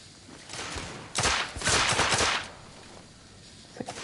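Video-game gunfire in bursts: a rapid crackling volley swells loud and close, then fades into quieter stretches with a few scattered shots near the end.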